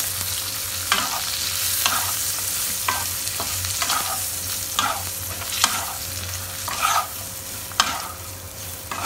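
Potatoes fry in a pan with coriander powder, dried mango powder and salt, a steady sizzle broken by repeated scraping strokes of a spoon stirring through them.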